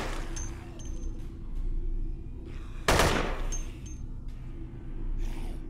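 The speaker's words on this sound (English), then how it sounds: "Oh, shot the arm off." Gunfire in the first-person shooter game Dead Effect: a steady, dense rattle of automatic fire with one sharp, louder burst near the middle, set against a constant noisy backdrop.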